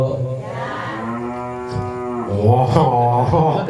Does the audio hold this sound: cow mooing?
yes